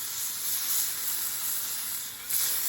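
Venison backstrap loin sizzles on a Blackstone griddle set on high, a steady close hiss of searing meat with slight swells and no talk.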